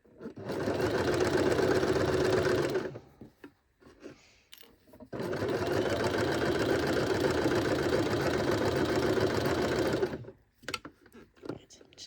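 A sewing machine stitches a fabric hem in two long steady runs of about three and five seconds, close and loud, with a brief pause of handling noise between them and a little rustling at the end.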